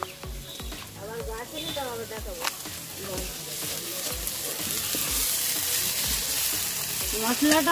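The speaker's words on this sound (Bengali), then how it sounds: "মশলাটা সুন্দর কষানো হয়ে গেছে, তেল ছেড়ে দিয়েছে।" Spice paste frying in oil for a jackfruit curry, a continuous close sizzle with rhythmic stirring and scraping against the pan, growing slightly louder toward the end.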